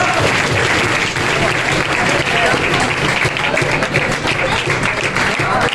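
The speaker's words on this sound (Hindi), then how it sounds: "जोरदार तालियों से स्वागत किया जाए।" At a farewell program for a village-worker batch at a gurukul, an audience claps loudly and without pause, a dense, continuous roar of applause that fills the room.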